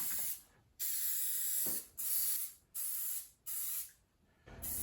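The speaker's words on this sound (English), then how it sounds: "we're just going to lift it up and squirt some glue on the wood under here" Glue sprayed onto wood in an MG TD car interior comes as five separate hissing bursts, each lasting about a second, with short pauses between them, close up and with no one talking.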